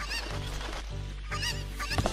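A chicken in Zelda: Ocarina of Time gives a few loud, honking clucks over steady game background noise. The squawks come in short bursts, with a sharp call near the end.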